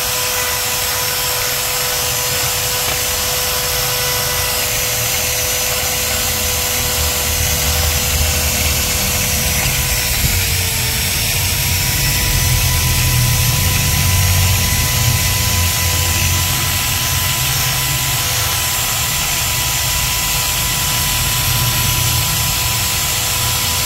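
A steady, loud power drill whirs continuously at close range, cleaning black carbon off a Nissan Sentra cylinder head, its motor tone holding even with a slight dip partway through.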